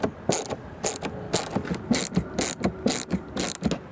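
Repeated ratchet clicking in short bursts while screws under the door handle come out of a Volvo XC interior door panel, close and moderately loud with brief pauses between strokes.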